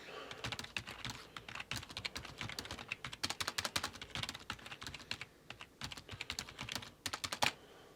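Steady, fast typing on a traditional computer keyboard, crisp clacking keystrokes in irregular bursts with brief pauses, close and clear with no voices.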